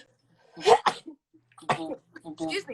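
A sharp, close sneeze bursts out near the start, followed by a brief second snort, and then people chat afterward.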